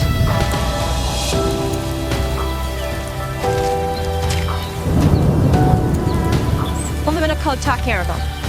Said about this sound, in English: Rain's here, safe and dry.